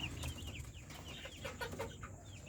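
Brahma chickens cluck softly in a backyard, with a few short, close clucks and chirps over a low, steady rumble of background noise.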